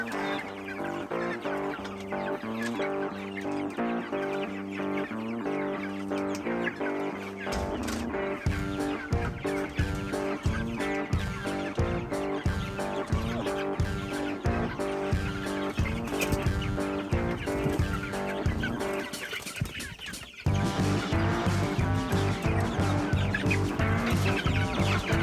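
Three-week-old meat chickens, pastured poultry, cluck and cheep in a dense, continuous flock chatter outdoors, steady throughout and briefly louder near the end.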